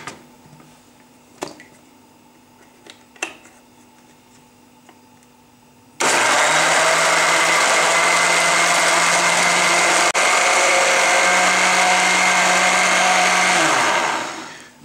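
A kitchen blender starts abruptly and runs at a loud, steady whir for about eight seconds while blending peaches with water and brown sugar, then winds down; faint clicks and handling sounds precede it.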